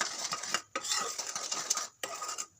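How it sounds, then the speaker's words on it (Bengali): A spoon stirs sugar into simmering homemade tomato sauce, clinking and scraping against the pot in quick repeated strokes, close up, with short pauses between bursts. "এর সঙ্গে অ্যাড করব এক চামচ চিনি ভালো করে চিনিটিকে মিশিয়ে নেব"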